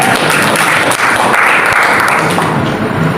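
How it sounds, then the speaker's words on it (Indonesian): A church congregation breaks into loud applause during a sermon at a prayer and fasting service, sustained and close, tapering slightly near the end. "Berikan tepuk tangan."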